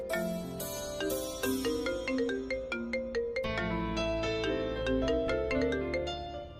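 A melodic phone ringtone plays, bright chiming notes repeating in a looping tune, clear and fairly loud with no talking.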